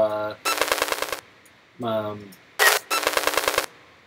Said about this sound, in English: I guess you could call it the autofocus noise, for lack of a better term.